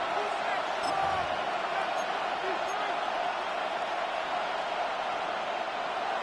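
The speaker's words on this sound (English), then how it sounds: "This crowd urging the defense on." A football stadium crowd roars steadily for the Seahawks defense, a dense and continuous wash of cheering noise heard from within the stands, with a commentator speaking over it.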